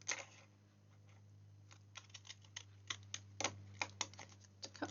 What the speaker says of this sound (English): I'm going to go around with fancy scissors